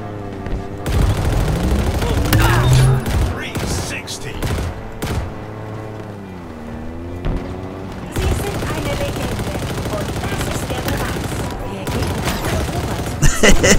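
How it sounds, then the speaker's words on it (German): Bursts of automatic gunfire and shots in Halo Infinite big-team multiplayer on the map Breaker, loud and sustained with engine hum and sweeping tones, while someone talks over the action. "Wir schießen hier alles weg."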